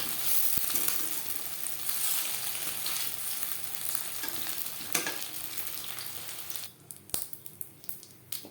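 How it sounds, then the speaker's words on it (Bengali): Egg pakoras frying in oil in a wok, a bright continuous sizzle with occasional spatula scrapes and clicks, easing toward the end. "প্রত্যেক ব্যাচের পাকোড়া একইভাবে ভেজে নেব"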